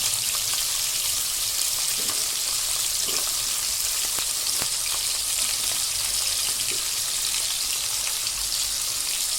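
Vegetables sizzling in a little hot oil with curry leaves, a steady dense crackle and hiss running close and unbroken, with scattered sharper pops and no voices.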